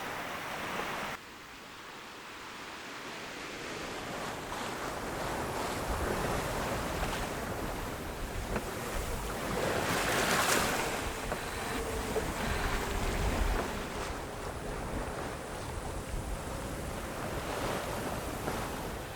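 A sailboat on a beam reach across the open ocean, with steady wind rush and washing waves surging louder and softer throughout, no voices.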